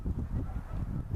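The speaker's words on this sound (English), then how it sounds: "We got a whole bunch of geese flowing through. Of course, they're heading south." A flock of geese honking as they fly south over hardwoods in winter, a dense, continuous chorus of overlapping honks at moderate distance with no talking.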